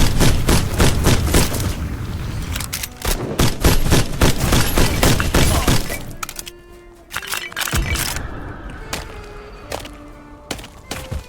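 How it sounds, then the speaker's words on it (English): Gunfire in the video game Black Skylands: loud, rapid bursts of shots and impacts for about six seconds, then a lull with a few scattered cracks and thumps. "I hear the shots"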